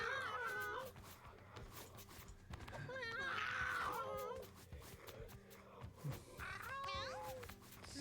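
Several cats meowing loudly and insistently, with drawn-out, wavering cries overlapping one another over a busy background, while a person talks nearby and a dog may be heard too.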